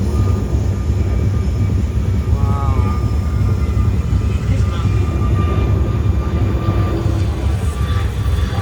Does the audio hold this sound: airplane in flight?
yes